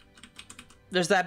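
Rapid, light clicks of typing on a computer keyboard, quiet and close, before a voice starts speaking over it.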